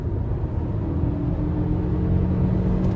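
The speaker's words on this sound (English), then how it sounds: "let me show you a 65 roll real quick" Lifted Toyota RAV4 Hybrid accelerating hard from a 65 mph roll, a steady, loud low engine and road rumble droning throughout with no voices.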